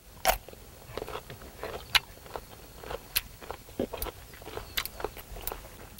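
Crisp bites and crunchy chewing of a fresh cucumber, picked outdoors in Melbourne, with a series of sharp crunches spread irregularly over several seconds, close and fairly loud.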